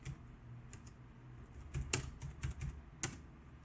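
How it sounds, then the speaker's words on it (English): Keyboard typing for a puzzle entry in Lorelei and the Laser Eyes, a short irregular run of quiet clicks with a few sharper keystrokes, no voice. "It's kind of a lot to type in."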